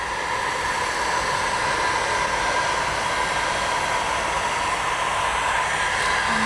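A heat gun blows steadily and continuously as it is swept across a vinyl door skin on a 4Runner, a loud, even airy rush with no pauses and no talk.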